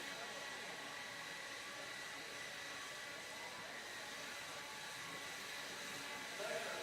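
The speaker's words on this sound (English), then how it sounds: "Marshall, grab your blower. Start blowing off the track." Leaf blowers roar continuously and steadily while clearing debris off an outdoor desert RC car race track. The broadband whoosh stays constant and fairly distant throughout.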